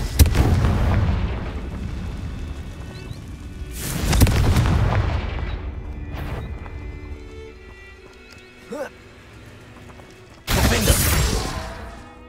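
Confringo spell explosions in Hogwarts Legacy, three heavy booming blasts spaced several seconds apart, each trailing off in a rumble, with fainter game sounds between.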